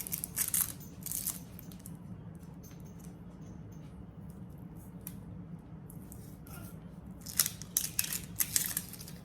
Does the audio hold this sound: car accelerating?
no